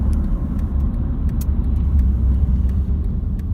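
Steady low road rumble fills the cabin of a 2010 Honda Civic Hybrid while driving, a continuous mid-loud drone with faint ticks and no speech.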